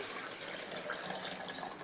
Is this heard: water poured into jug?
yes